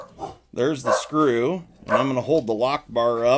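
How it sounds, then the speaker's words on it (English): Dogs bark and yip in the background while someone talks steadily over them during a knife disassembly, the barks short and mixed under his voice. "Sorry about the dogs barking."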